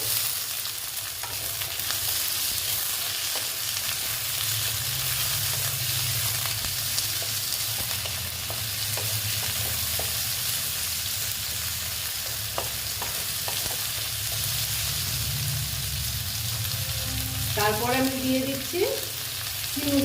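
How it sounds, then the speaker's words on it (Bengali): Potatoes frying together in a pan for a dried fish curry, a continuous loud sizzle with occasional stirring clinks and scrapes, no talking. "আলুগুলো আমি কিন্তু বারবার বলছি যে আমি একসঙ্গেই ভেজে নিচ্ছি"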